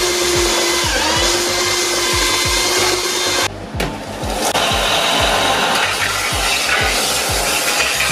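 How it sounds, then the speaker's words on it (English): A belt sander works over a homemade glued wooden skateboard deck, a loud steady grinding whine with rhythmic rubbing strokes and a brief dip midway as the tool lifts off the wood. "I'm going to try and smooth it out as much as I can with a belt sander"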